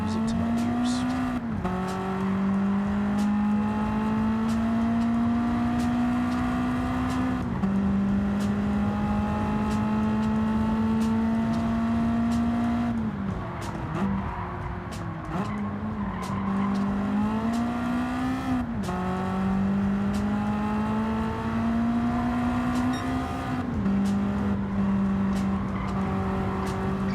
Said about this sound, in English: that nostalgic, high-strung B18 was music to my ears